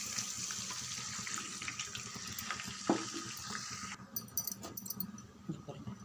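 Water from a tumbler pours into a pan of sautéed semiya for upma, giving a steady running splash that fills the clip, with a few clinks of the vessel near the end.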